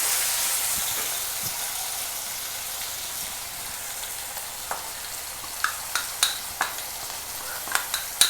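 Onion and masala frying in a pan for Kerala egg mappas, a steady hissing sizzle throughout, with sharp scraping clicks of a spoon stirring that grow more frequent toward the end; no talking.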